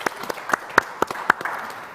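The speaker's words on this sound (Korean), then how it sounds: "박수로 한번 같이 치고 시작할까요?" An audience at a science forum claps in a lively, uneven patter of individual hand claps, fairly close, building briefly and then thinning out.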